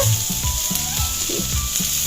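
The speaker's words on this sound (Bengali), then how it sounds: "মা বললো দুটো আলু ভাজা করো, তাই আলু ভাজা হচ্ছে" Potatoes frying in a pan, a continuous close sizzle with soft periodic stirring taps, with no one talking.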